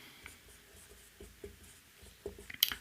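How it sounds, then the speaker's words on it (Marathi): Soft, scratchy strokes of writing on a board during a chemistry lecture, quiet and intermittent, with small taps and a brighter scrape near the end. "पहा इथं आपण पॉईंट लिहितोय"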